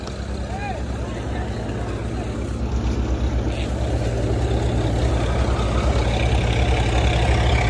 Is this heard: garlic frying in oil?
no